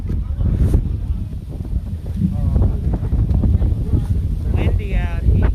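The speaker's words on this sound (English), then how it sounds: "Windy out here." Wind buffets an outdoor microphone with continuous low rumbling gusts, while people's voices are heard talking underneath.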